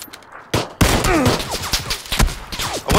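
A shotgun fires during an online shooter video game: a few sharp, loud blasts land close together over a busy game soundscape, with no talk.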